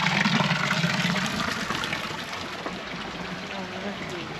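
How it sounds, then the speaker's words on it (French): Spring water flowing in the medieval village of Saint-Guilhem-le-Désert, a steady rushing gush nearby with a voice talking partway over it. "L'eau de la source."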